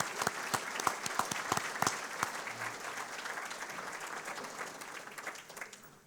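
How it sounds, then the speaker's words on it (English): An audience at an awards gala applauds, with dense clapping that starts loud with sharp individual claps and gradually thins and fades. "Please join me in a warm round of applause for their dedication and strong commitment."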